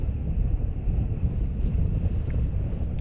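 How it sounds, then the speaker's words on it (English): Steady, strong wind blowing across an exposed mountainside at 3750ft in wintry blizzard conditions, a continuous loud low roar with gusty buffeting against the microphone and no breaks throughout. "That wind has dropped, but it's still a fair breeze"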